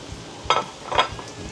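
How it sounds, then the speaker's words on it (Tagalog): Zucchini stir-fried in a pan, giving two short bursts of sizzle and scraping as the slices are turned, over a low steady frying hiss. "Parang ating ipiprito, i-stir fry lang ng karikit ito dito."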